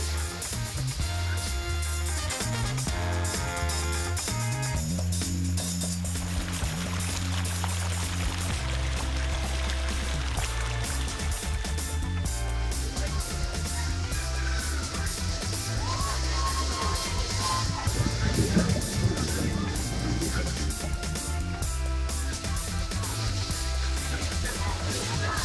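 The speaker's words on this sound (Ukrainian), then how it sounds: "коли оцей водоспад водою на тебе б'є" Waterfall water pours down onto a bather at a crowded riverside spot in Zalishchyky, a continuous loud rushing wash of spray and splashing that swells and churns throughout, mixed with some faint background sounds.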